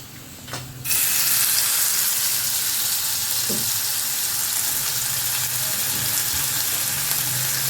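Potatoes hit hot oil with a sudden loud sizzle that continues as a dense, steady hiss and crackle close by, preceded by a brief quieter moment.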